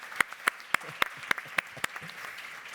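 Scattered hand claps from a small conference audience at a corporate responsibility event, about ten sharp individual claps spaced irregularly over a few seconds, fairly near and moderate in volume.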